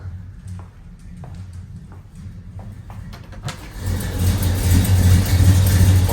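A long-dormant Pontiac GTO engine cranks with faint, uneven pulses over a low hum, then catches about halfway through and revs up loud and sustained, roaring steadily to the end with no talk.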